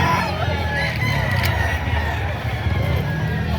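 A rooster crows and chickens cluck at a market where fowl are being sold, close and clear amid background chatter.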